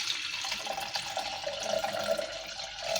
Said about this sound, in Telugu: ఇందులోకి సరిపడా వాటర్ పోసుకుందామండి